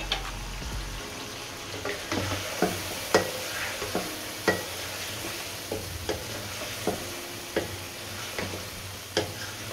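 Whole spices sizzling in a pot for Karachi biryani, with a steady soft fry under repeated sharp taps and scrapes of a spoon stirring against the pan.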